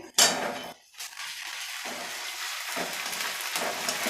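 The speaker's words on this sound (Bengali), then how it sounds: "আদা বাটাটা দিয়েও আমি নাড়তে থাকবো।" Garlic and ginger paste frying in a pan gives a sizzling crackle, broken by brief pauses and spoon-on-pan scraping and clinks as it is stirred, with no voices.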